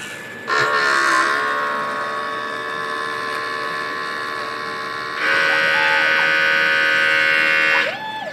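A DTF printer running a print head cleaning cycle gives two long bursts of mechanical whirring and buzzing, with motor pitch rising and falling as the bursts start and stop.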